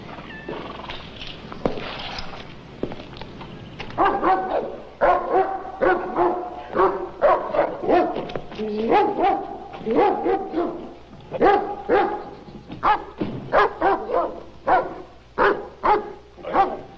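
A dog barks repeatedly in a scene from a 1977 Sherlock Holmes film, loud, close yaps and bow-wows in an irregular series, sometimes whimpering, with brief human voices mixed in.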